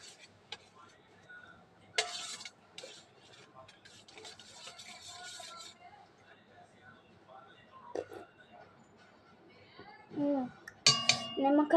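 A spoon stirs sugar into a lemon drink in a glass, giving intermittent clinks and scraping taps against the sides, with a louder burst of clattering near the end.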